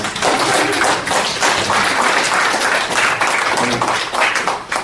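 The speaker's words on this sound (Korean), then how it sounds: "우리 박수 한번 하십시다." An audience claps together at a gathering, dense, loud and continuous hand clapping close by for several seconds, with a faint voice or two underneath.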